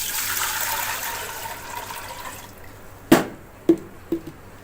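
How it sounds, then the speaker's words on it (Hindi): Water poured from a jug into a pot for boiling while making raw mango murabba, a steady pouring rush that fades out, followed by a few sharp drips or knocks. "अब हम इसमें पानी डालेंगे उबालने के लिए।"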